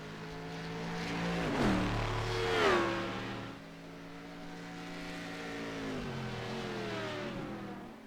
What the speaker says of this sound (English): Lafferty running well in that Honda LMP2 number 58 machine